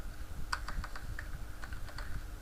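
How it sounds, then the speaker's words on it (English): Rapid, steady keystrokes on a computer keyboard while code is typed, light clicky taps at close range over a faint steady hum, with no talking. "This time I'll type const"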